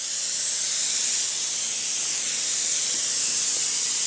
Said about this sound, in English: spraying Duratex